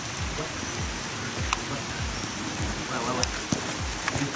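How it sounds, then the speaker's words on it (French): Steady outdoor rain falls as a broad hiss with scattered sharper drops and a few louder pattering taps, fairly close and continuous, during a football slalom drill session. "il a commencé à pleuvoir quand on le faisait"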